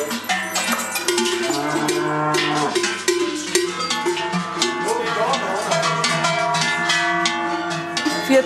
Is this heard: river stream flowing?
no